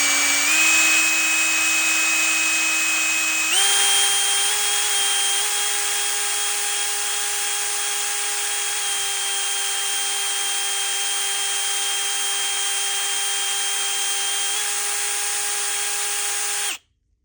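A drill spins a Q-tip against the brass float seat of a Harley-Davidson CV40 carburetor, giving a steady high-pitched whine that steps up in speed once early on, then holds level until it stops abruptly.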